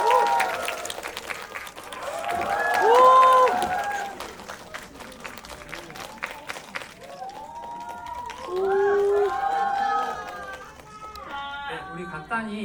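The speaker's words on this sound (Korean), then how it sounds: "박수로 맞이해 주시죠." A cinema audience applauds at a Korean film screening with a guest Q&A, two bursts of clapping swelling and fading, with people talking and a host speaking between them.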